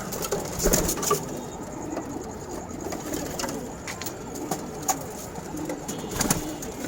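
Pigeons in a loft of birds offered for sale in Dhaka's Wari area coo softly and steadily, with scattered wing flutters and light scuffing, and no talk over them.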